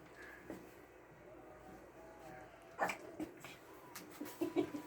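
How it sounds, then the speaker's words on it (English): A dog barks in a few short bursts from a little distance, roughly midway and again near the end, over a quiet room background. "Was that the dog? I think it was one of them. It's barking."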